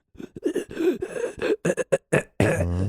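A voice mimics a stranger hacking in an alleyway: a string of rough, choppy coughs and throat sounds, loud and close, ending in a strained retching groan.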